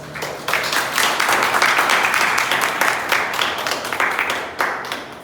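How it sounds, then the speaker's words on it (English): An audience applauds the speakers at the close of a Toastmasters club meeting: sustained, dense clapping from a roomful of people that starts abruptly and holds steady for several seconds. "Let's give all the speakers a big round of applause."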